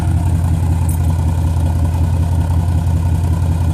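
A 2011 Dodge Durango Citadel with a 5.7-liter Hemi V8, Super 44 Flowmaster mufflers and resonator delete idles with a steady, loud, deep burbling exhaust rumble, close up and without a break.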